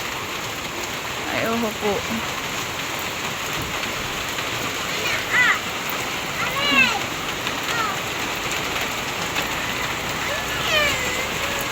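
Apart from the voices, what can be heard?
heavy rain pouring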